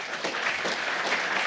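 An audience breaks into brief, steady clapping, a dense wash of applause at moderate volume lasting only a moment.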